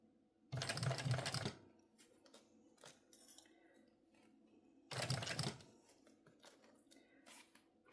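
A sewing machine stitches a mini backpack in two loud, close bursts of about a second each, separated by quieter handling clicks and fabric shuffling.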